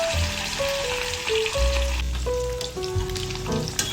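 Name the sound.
fish frying in oil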